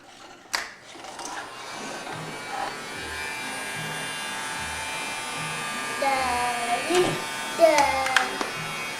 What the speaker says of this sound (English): Hey, Lucas, who got the vacuum to work for you?